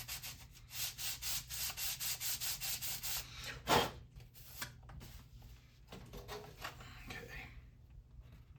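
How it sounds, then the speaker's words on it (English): Hand scuffing on an arcade game part: a quick run of rhythmic back-and-forth rubbing strokes, close and moderately loud, then a sharp scrape and a few scattered, quieter rubs and handling sounds. "Just lightly scuffing this down."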